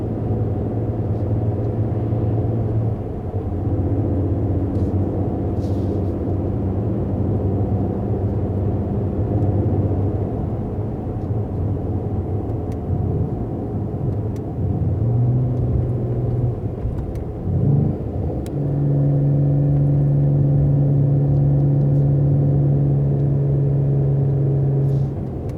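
A 2020 Mercedes-AMG GT 4-Door Coupe engine drones steadily while driving, a low constant rumble with shifting tonal bands and a brief dip before settling into a louder, sustained hum, with no talking.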